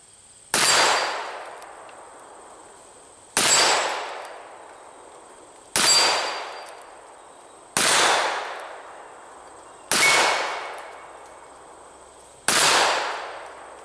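Six shots from a Smith & Wesson 586-8 revolver fired at a 20-yard outdoor range, each a sharp loud crack with a ringing decay, spaced evenly about two seconds apart with no talking.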